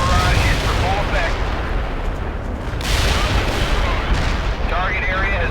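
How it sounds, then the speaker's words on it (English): An artillery barrage in World in Conflict: Soviet Assault, a dense, loud, continuous rumble of distant shell impacts and booms, with faint radio-style voice chatter under the roar. "Artillery barrage is for full effect."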